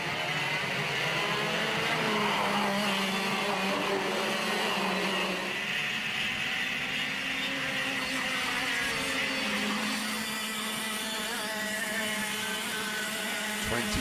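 Pack of 125cc racing karts on a rolling lap at a DRS125 Grand Prix, a loud, dense drone of many high-revving two-stroke engines with shifting pitch as karts pass, continuous and close throughout.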